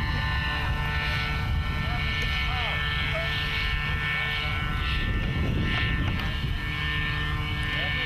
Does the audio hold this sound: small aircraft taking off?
yes